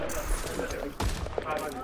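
Rapid bursts of gunfire in the Overwatch video game, sharp repeated shots close up amid dense game sound, with a player's voice talking over them.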